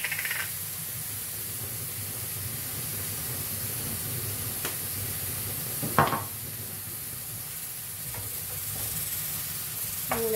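Sweet pepper and parsley cooking in a pan, a faint steady hiss and sizzle with a few sharp utensil clinks and scrapes, one louder knock near the middle.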